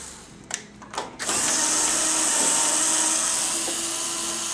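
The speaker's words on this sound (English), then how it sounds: "I'm just going to use my little drill gun to do it." A power drill whirs up after a few short clicks and bursts, then runs steadily at high speed, loud and close, removing screws from the back of a washing machine.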